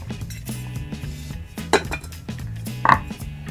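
A Snow Peak Yaen Cooker 1000 pot and its lid being handled, giving two sharp metallic clinks a little over a second apart. Quiet rustling and soft handling noise fill the gaps.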